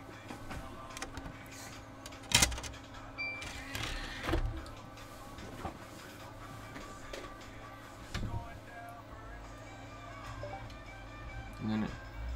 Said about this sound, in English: you're going to eject that disc and you're going to put the other one in